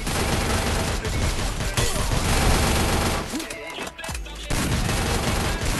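Rapid bursts of automatic gunfire fill a shooter video game match, loud, dense volleys crackling almost nonstop, with a brief lull in the middle before the shooting resumes.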